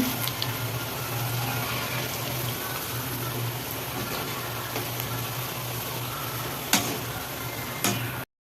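Ring murukku deep-frying in hot oil makes a steady, dense sizzle and crackle that carries on throughout, with a couple of sharper clicks near the end.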